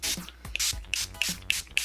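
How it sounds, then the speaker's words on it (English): Makeup setting spray is misted onto a face in several short hissing bursts, close and fairly quiet, with small clicks and taps between the sprays. "So I'm just going to spray a little bit."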